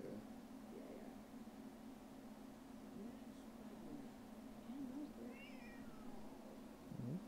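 A person imitates a cat's meow during a Valorant gaming session, several faint drawn-out meowing calls spread over a few seconds against a steady background hum.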